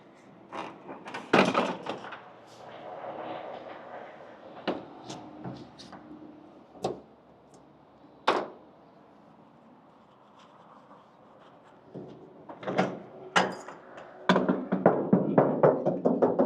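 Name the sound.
door being opened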